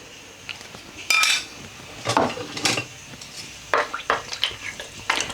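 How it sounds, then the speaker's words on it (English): Whole spices tipped into hot oil in a cooking pot for a lamb and potato curry: a few sharp metallic clinks and rattles against the pot in separate bursts, close and fairly clear over a quiet background. "And then straight in with the whole spices."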